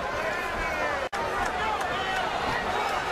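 A boxing arena crowd at a championship fight roars in a dense, continuous wall of cheering, with a brief cut near the start.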